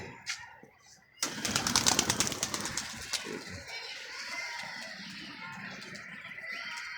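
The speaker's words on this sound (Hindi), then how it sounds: "एक ये खेल रहा कबूतर" A flock of pigeons takes off with a sudden burst of flapping wings that fades into softer fluttering and distant background noise, with a voice faintly heard.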